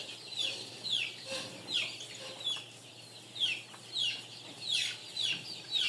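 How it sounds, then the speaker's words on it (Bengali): A sick 25-day-old Sonali chicken in a poultry shed gives thin, high, falling peeps, about ten of them at a fairly steady pace, faint against a quiet background. "এইটা যেটা ডাকতেছে, এটা আপনার অসুস্থ মুরগি ডাকতেছে"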